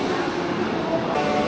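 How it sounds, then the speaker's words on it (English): An automated people-mover train at DFW Airport's terminal station departs with a steady, close rumble and hum that fills the whole short stretch, with no voices over it. "We missed the train."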